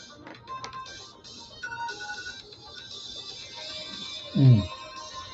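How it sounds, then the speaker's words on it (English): Faint electronic alarm tones beep and chime quietly over soft clicking, followed by a brief low thump. "That's my alarm"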